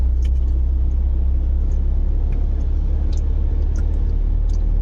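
Constant loud low rumble of heavy road traffic nearby, heard by a truck driver, engines droning steadily with occasional faint higher clinks and squeaks over the din.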